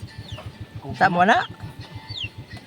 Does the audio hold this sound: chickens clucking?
yes